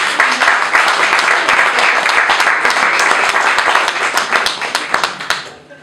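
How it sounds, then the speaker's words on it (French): Sustained, dense applause from an audience at the fourth-anniversary gathering of the Congo Fort political party, loud and steady throughout before thinning out at the very end. "Applaudissez pour ça, chers amis."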